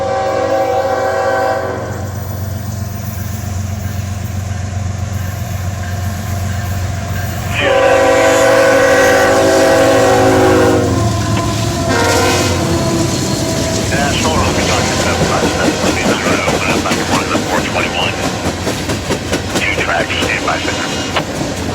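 CSX Q371 freight train passing: a long, loud multi-tone horn blast followed by the rumble and steady clickety-clack of many railcars rolling by, with a voice speaking over it.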